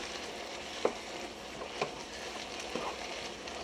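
Chicken and rice with chipotle sizzling in a stir fry pan, a steady soft frying hiss with a few brief stirring clatters, no voices.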